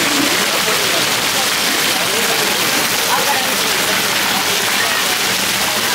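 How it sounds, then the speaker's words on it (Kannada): Heavy rain pours steadily onto a waterlogged road near Kukke Subrahmanya, a dense, loud, continuous hiss of drops with no pauses. "ತುಂಬ ಮಳೆ ಬರ್ತಾ ಇದ್ದು ಈಗ."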